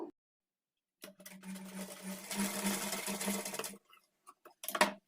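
A sewing machine stitches piping onto fabric in one steady run of about three seconds, then stops, followed by a few short bursts of stitching. The sound is close and moderately loud, with no talking.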